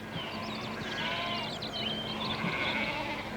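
Sheep bleat on an Irish hillside, wavering calls rising over a steady outdoor hiss, moderately distant, with faint bird-like chirps mixed in.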